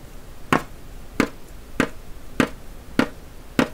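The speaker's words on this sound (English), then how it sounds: "And I'm going to use my square sound shape here to make the beat." A steady beat tapped on a square sound shape percussion instrument during a classroom pajama party jam, six crisp evenly spaced hits about half a second apart, close and clear with no voices.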